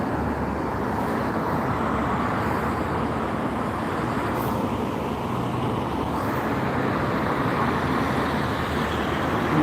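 Road traffic of buses and cars moves through Gloucester, a steady mid-distance roar of engines and tyres that holds at an even level throughout, with no talk.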